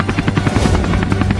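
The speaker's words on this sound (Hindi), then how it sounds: "अरे वहाँ तो एक हेलीकॉप्टर भी उड़ रहा है।" A helicopter's rotor thumps in a steady rapid pulse under a loud engine drone, close and continuous throughout.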